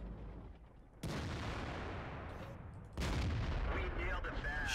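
Two loud, sharp tank gun blasts ring out in the World of Tanks video game, each followed by a lingering rumble over continuous battle background noise.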